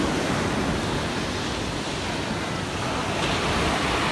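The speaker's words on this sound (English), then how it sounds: "Look at the waves. There's like nothing. And then they break right here." Ocean waves break steadily on a beach, a continuous loud wash of surf with wind noise across the microphone and no voices.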